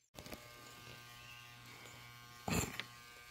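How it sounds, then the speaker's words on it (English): An electric shaver buzzes steadily through hair at close range but fairly quietly, with a louder, harsher burst of cutting near the end. "Shaving all his damn hair off."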